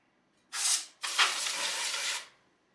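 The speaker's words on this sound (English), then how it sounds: "and spray in there." Cleaner sprayed inside a 3D printer during maintenance: two close, loud aerosol bursts, a short one followed by a longer steady spray of about a second, then silence.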